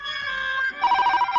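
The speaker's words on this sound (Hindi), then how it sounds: "hotline ringing" A red hotline telephone rings with a bright electronic trill, loud and close, its tone shifting partway through into a faster warbling burst.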